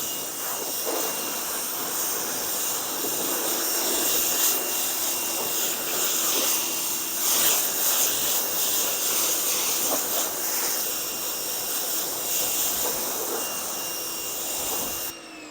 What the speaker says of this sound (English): You always want to keep the pressure washer hose away from the vehicle.